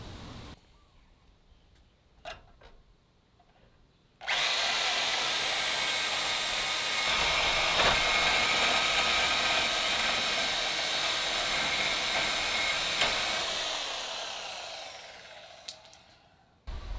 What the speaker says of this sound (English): then I'll use the portaband to cut the rest of this